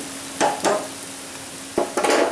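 Liver fry being stirred in a pan, two pairs of short scraping strokes against a faint sizzle and a low steady hum, close and brief.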